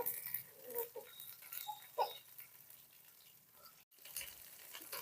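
Crab fry cooks in a pan, a faint, soft sizzle with occasional light stirring scrapes and one brief dropout before the frying resumes, heard up close without talk.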